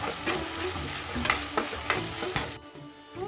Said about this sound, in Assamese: এইখিনিৰ পৰা তেল বিৰিঙি অহালৈ মই ভাজি ল'লোঁ